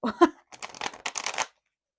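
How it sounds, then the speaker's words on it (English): A quick shuffle of a tarot card deck, two short riffling bursts close up after a brief voiced sound, then silence. "let me just shuffle this"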